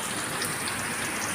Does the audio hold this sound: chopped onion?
no